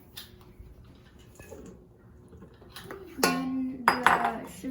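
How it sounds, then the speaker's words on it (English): Flour and other dry pancake ingredients go into a mixing bowl, with clinks and scrapes of a utensil against the bowl that grow louder toward the end, close by in a quiet kitchen. "Now we're gonna add our dry ingredients in the mixing bowl."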